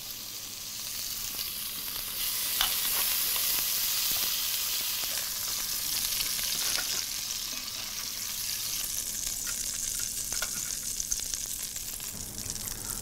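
A Breton lobster sizzling with lobster butter in a cocotte, giving a loud, steady frying hiss with occasional crackles and light scrapes of stirring, heard alone.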